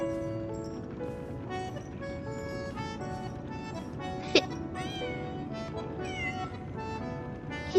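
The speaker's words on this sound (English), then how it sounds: "might as well just sit here and play with the kitten" A kitten meows in the video game Lies of P, several short rising calls in a row over soft background music, with a sharp click partway through and no speech.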